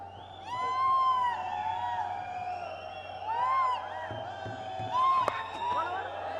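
Crowd at a T20 cricket stadium in Afghanistan cheering and whooping, a dense roar that swells in waves with high whistles and shouts rising over it.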